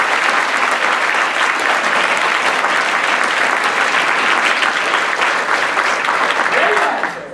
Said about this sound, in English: Clap as loud as you can.